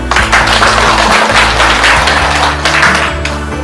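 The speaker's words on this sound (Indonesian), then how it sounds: "Sekali lagi kita kasih aplaus dulu" Loud, continuous applause from a classroom audience for presenting student groups, dense clapping over a low steady hum, sustained for a few seconds.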